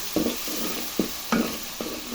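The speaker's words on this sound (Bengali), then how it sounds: "একটু নাড়াচাড়া করে নেব।" Cauliflower curry with yogurt frying in a pan sizzles steadily while a spoon scrapes and stirs it in several distinct strokes, close by.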